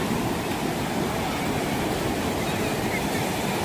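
Surf rolling onto Panambur beach, a steady broadband wash of breaking waves that fills the scene without pause, with no voices heard.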